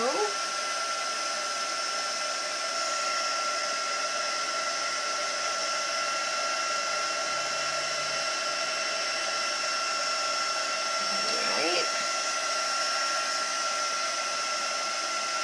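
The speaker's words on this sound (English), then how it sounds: "I'm going to heat emboss this." A heat tool on its second setting blows steadily and evenly the whole time, a constant whirring hiss while embossing powder is melted on a stamped card, with no talking over it.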